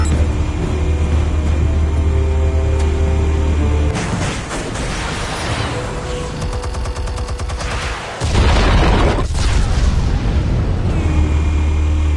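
Explosives detonate in the Batman Telltale Series video game: loud, dense blasts and crackling debris rumble through a continuous battle-sound mix, with a sharp new burst near the end and no talk.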